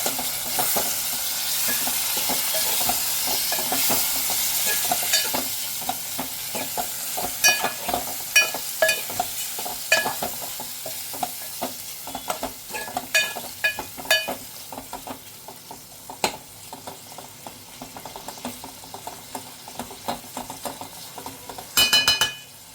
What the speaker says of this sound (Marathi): आता आपण कोळंबी पण छान अशी परतून घेऊया